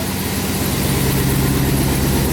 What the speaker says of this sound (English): So it's pretty quiet. It sounds almost like a normal vehicle.